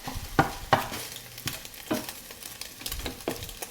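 Eggs stir-fried in a hot wok with oil, a soft sizzle punctuated by several sharp spatula scrapes and clacks at an uneven rhythm, close and alone.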